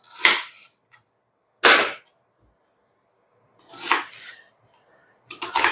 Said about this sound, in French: Et je vais couper les légumes